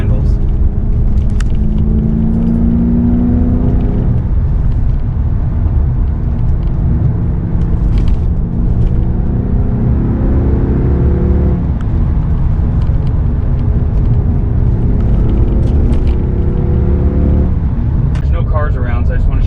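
A Lexus GS300/GS400/GS430 sedan with modified front suspension drives along, its engine and road rumble steady and close while someone talks over it almost the whole time.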